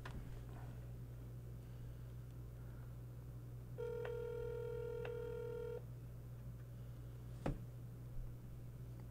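A telephone call rings unanswered: a single electronic ring tone sounds for about two seconds over a faint steady hum, followed by a brief click.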